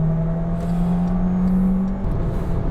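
A Volkswagen Sharan with a manual gearbox accelerates onto the Autobahn, its engine droning steadily in a rising hum heard from inside the cabin, with a brief dip around a gear change near the end.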